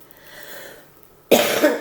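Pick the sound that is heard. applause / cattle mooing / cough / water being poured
cough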